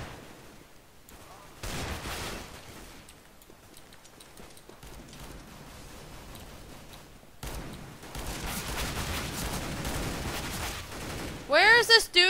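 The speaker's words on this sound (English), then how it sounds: "Where is this dude shooting from?" Gunfire in the video game CS:GO crackles in rapid bursts of shots with a rifle in play, moderately loud against game background noise, with a short electronic sweep near the end.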